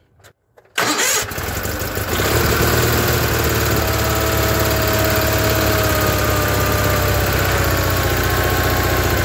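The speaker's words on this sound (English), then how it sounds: "I'm just going to start the tractor up." A Case Ingersoll garden tractor engine cranks briefly, catches and starts, then settles into a steady, loud, close idle that runs unbroken to the end.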